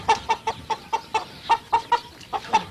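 Bresse chickens cluck in the countryside, a steady series of about a dozen short, evenly spaced clucks close by, with no talk over them.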